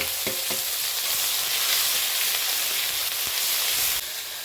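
Garlic paste and a ginger, cumin and dried chilli spice paste hit a hot pan for a potato and egg curry, giving a loud, continuous close sizzle with a few stirring scrapes near the start, with no voices.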